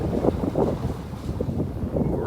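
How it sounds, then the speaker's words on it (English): Breezy morning wind on a beach in North Naples, Florida, buffeting the microphone in low, gusty rushes that rise and fall steadily for a couple of seconds, moderately loud with no talking. "Really breezy."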